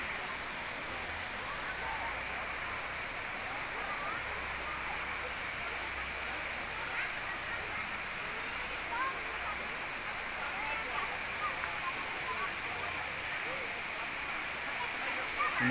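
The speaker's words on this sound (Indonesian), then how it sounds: "Ini bagian dari jalur air terjun dari Cigentis" Water from the Cigentis waterfall trail flows in a steady, broadband rushing stream outdoors, constant and unbroken throughout at moderate distance.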